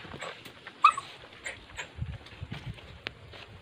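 A dog whimpers in short, soft whines with faint rustling and shuffling around it, close by and fairly quiet.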